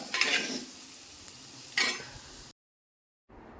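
Tomato curry being stirred in a pot on the stove, with sizzling and scraping bursts of the spoon against the pot, two short rounds close by, then a brief silence before faint sizzling resumes.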